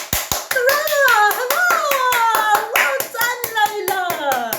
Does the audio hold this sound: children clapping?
yes